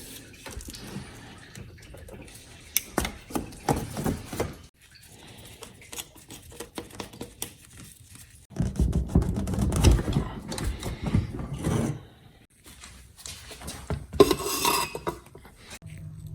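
Work on the intake in a Subaru STI engine bay: intermittent metallic clinks, rattles and plastic knocks as parts are handled and pulled free, with quiet pauses between bursts of activity.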